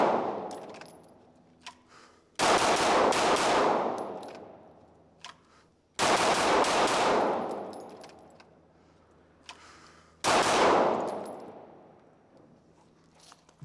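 Three loud, sharp pistol shots from a SIG Sauer at an outdoor range, several seconds apart, each with a long ringing echo decaying behind it, plus faint metallic clinks between shots.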